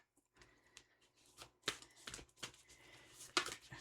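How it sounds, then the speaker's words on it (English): Tarot cards are shuffled close by in quick riffling bursts with short crisp snaps between them, soft and intimate with no talking. "I'm going to shuffle some more here."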